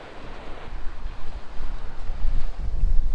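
Strong wind buffets the microphone in heavy, rumbling gusts that grow louder, with a faint wash of surf underneath, on the beach at Wisconsin Point Lighthouse.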